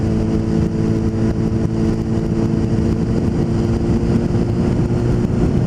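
A 2008 Honda CBR 600RR sport motorcycle engine runs loud and close, a continuous rumbling drone that holds steady throughout with no talk over it.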